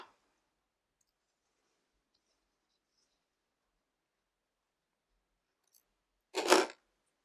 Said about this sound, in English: And then you need to cut your threads.